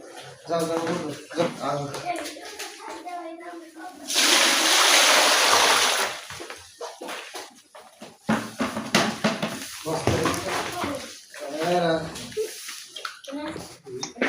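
Feed is poured out for a dairy cow on a small village farm, making a rushing, splashy pour that lasts about two seconds. People talk before and after it.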